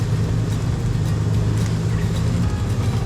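Pickup truck engine running hard while plowing through deep snow, a loud, steady low drone that holds without pause throughout.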